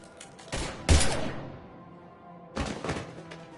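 Gunfire from the video game Mass Effect 3: a few sharp, loud bursts of shots with a heavy thudding impact, then a decaying tail and a second volley near the end, no speech.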